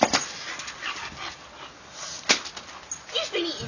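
A bullmastiff dog barks and whimpers close by in short, scattered yips and whines, while people talk over it.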